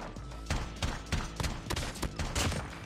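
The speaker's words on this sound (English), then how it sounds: "bust out the M21 here. Super fast fire rate" An M21 rifle, fitted with a suppressor, fires in the mobile shooter game COD Mobile: a rapid series of about ten sharp, muffled shots at an uneven quick rhythm, close and moderately loud over steady game background.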